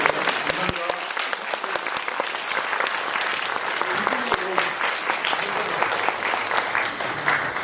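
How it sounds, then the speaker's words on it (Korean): An audience at a Korean film screening Q&A breaks into sustained, dense applause for three guests, many hands clapping loudly close by, with some voices mixed in. "세 분 큰 박수 드리면서 감사합니다"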